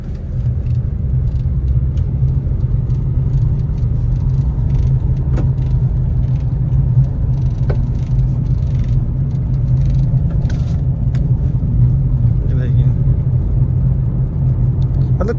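Inside a Tata Nexon iCNG in third gear on a brick road, a continuous low engine and tyre rumble holds steady, with faint small rattles and clicks over it.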